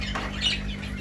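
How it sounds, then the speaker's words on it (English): Lovebird parrots in a home bird setup give a single brief, shrill squawk over a steady hum of room and equipment noise. "And these are Lovebird parrots."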